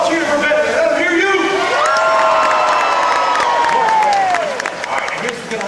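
A crowd at a dog show cheers and whoops loudly, with shouting children and scattered clapping forming a dense, sustained roar that fades slightly at the end.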